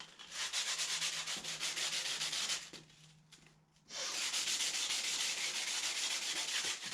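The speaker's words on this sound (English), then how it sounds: "take the burrs off the edge" Sandpaper rubs steadily along the raw edge of a wooden stereo faceplate to remove burrs, a loud continuous scratchy stroking that pauses briefly midway before resuming.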